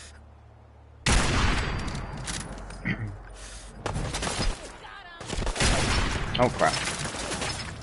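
Sniper rifle fire in Fallout 4: loud, abrupt gunshots break the quiet, followed by further bursts of firing and impacts, while a player talks briefly over the action.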